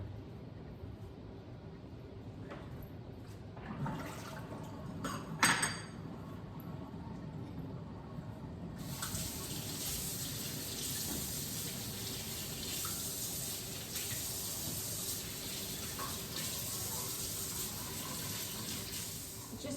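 Quiet clinks and handling at a kitchen sink with water splashing over tomatoes, then the tap opens into a steady, fairly loud rush of running water that continues to the end.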